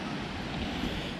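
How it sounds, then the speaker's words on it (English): A steady, broadband roar of falling water from a waterfall near Cherrapunjee in Sohra, constant and fairly loud without any talk. "There's a waterfall."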